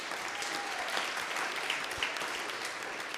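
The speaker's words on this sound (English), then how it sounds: "You don't need to applaud. Well, you can if you want to applaud." Audience applause at a grassroots North Shore political gathering, a steady wash of many hands clapping that holds evenly throughout at moderate loudness, with no voices standing out.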